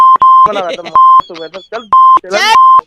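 A phone call cut off by a series of sharp, steady electronic beeps, loud and close, alternating with someone talking.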